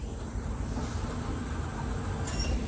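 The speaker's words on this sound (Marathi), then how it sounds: "ट्रेन आली बघा" A train arriving at Adavali station in Konkan at night rumbles steadily past at close range, with a continuous low roar and a brief high metallic squeal of wheels near the end.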